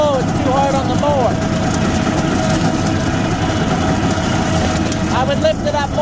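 A lawn mower engine runs steadily and fairly loud throughout, a constant droning hum with brief squeaky tones near the start and end, while the operator stays quiet.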